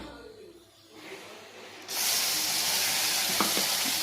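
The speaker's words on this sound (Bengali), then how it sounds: "পেঁয়াজ দিয়ে দিলাম। পেঁয়াজ ভাজা হওয়ার পর আমি গ্রেভিটা দিয়ে দিলাম" Onions dropped into hot oil in a pan while cooking biryani: after a quiet moment a sudden bright sizzle erupts and holds steady and loud, with faint clinks of stirring.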